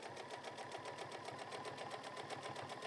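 Sewing machine stitching through thick fabric on a bag, a close, fast, even mechanical chatter that keeps a steady rhythm throughout, quiet and without speech.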